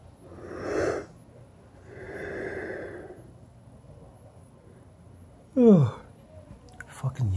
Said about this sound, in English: Fucking yawning fits, man.